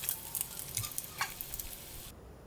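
Strips of Spam, cut long and lengthwise, sizzle and fry in a pan with a steady close crackle and scattered brief pops, alone without voices, before cutting off near the end.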